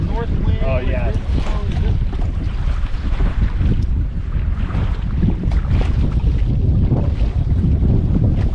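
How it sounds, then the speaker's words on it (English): Strong north wind buffets a fishing boat on the St. Lawrence River, a steady loud roar with gusty rumble and water noise throughout, with brief voices heard early under the din. "This is north wind."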